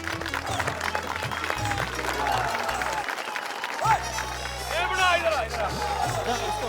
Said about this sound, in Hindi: बोलो जोर से ताली बजाई